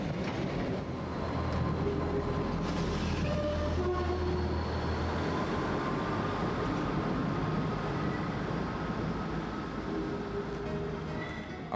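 A passenger train departing Glasgow for Fort William in the Scottish Highlands, a steady loud rumble of wheels and carriages throughout, with faint tonal squeals and a distant horn-like note.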